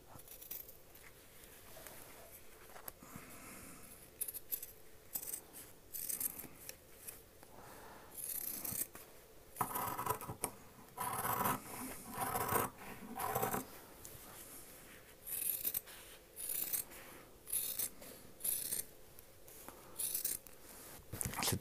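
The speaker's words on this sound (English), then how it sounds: "Trim the seam allowance as well, so you don't get any bulk." Scissors trim the seam allowance on shirt fabric, quiet close snips coming in short bursts and pauses with no talking.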